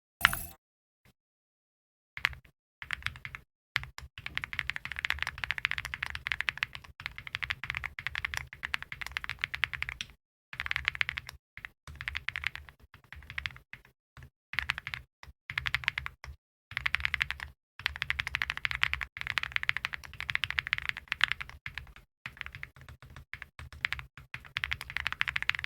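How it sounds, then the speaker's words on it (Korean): Rapid typing clatters on a QK Alice Duo mechanical keyboard, close and crisp, with dense runs of keystrokes broken by short pauses and no voices. "이제 타이핑 해보도록 하죠."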